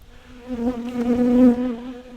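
A bee buzzes close to the microphone outdoors, a steady droning hum that swells louder then fades, with no talk over it.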